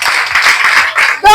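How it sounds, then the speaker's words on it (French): Lycée students in Marcory applauding, a brief burst of dense crowd clapping that ends abruptly as a voice cuts in. "Applaudissez pour vous."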